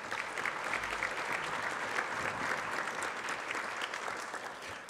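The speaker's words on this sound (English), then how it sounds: "so please give them a round of applause." Steady, dense applause from a seated audience at an awards luncheon, many hands clapping together at an even level for several seconds with no voices rising above it.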